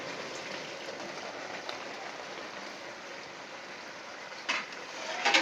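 Ground onion and coconut paste fries in a hot pan for a mutton curry, giving a steady, soft, rain-like sizzle with a few brief louder pops near the end.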